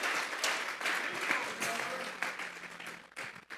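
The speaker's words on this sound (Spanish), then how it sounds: "Dele fuerte esas palmas a ese Dios que vive." A church congregation claps during a sermon in a brief, moderately loud burst of applause that fades toward the end, with voices heard over the clapping.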